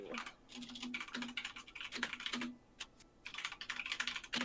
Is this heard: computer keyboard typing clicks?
yes